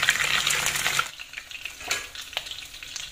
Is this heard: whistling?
no